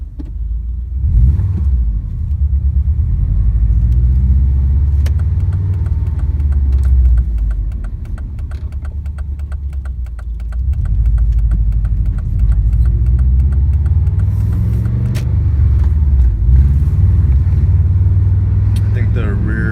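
2001 Subaru Impreza 2.5RS on the road with a worn rear left wheel bearing, a constant heavy low drone and rumble under steady cruising, swelling slightly at times, while someone talks over it.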